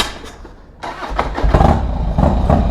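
A carbureted Harley-Davidson Dyna FXDX motorcycle engine cranks and fires, then settles into a loud, uneven, lumpy idle with a few rough revs close by.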